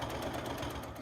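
A sewing machine stitching fur-trimmed fabric runs in a fast, even mechanical chatter, close and steady throughout a short burst with no speech.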